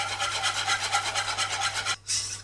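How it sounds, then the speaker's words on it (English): A whisk scrapes rhythmically through a batter as flour is whisked in for baked churros, a quick, even series of close rasping strokes before a brief pause and one last stroke. "we're going to whisk in our flour"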